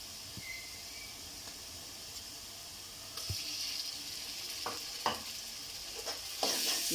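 Onion and ginger-garlic paste sauté in a pan for pav bhaji, a soft, steady sizzle with occasional louder stirring scrapes and clinks close by, quiet overall and without speech.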